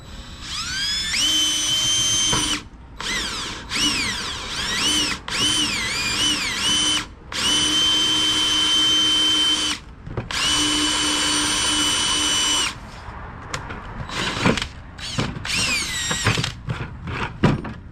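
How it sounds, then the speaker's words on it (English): A power drill bores a hole near the bottom of a plastic bucket, whining loud and close in several bursts of a few seconds each, with short pauses between them and smaller clicks and handling noises at the end. "I'm gonna make a hole in this about 1/4 inch from the bottom of the bucket"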